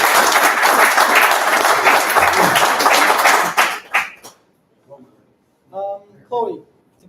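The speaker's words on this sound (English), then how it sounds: "How much round of applause do you want to give him?" Loud, dense applause from a crowd for several seconds, fading out, followed by a few short spoken phrases.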